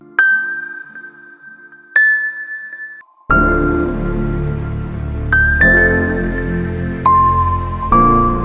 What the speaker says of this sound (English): We can add a simple top line melody with a bell preset, as this takes up the mid-high frequencies.